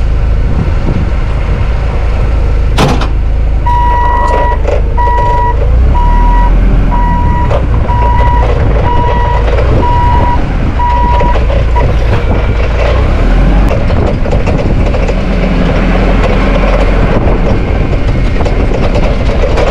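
A Clark forklift with a new 3 L engine driving, a loud, steady engine rumble with rattling and clanking, and a regular series of electronic beeps in the first half.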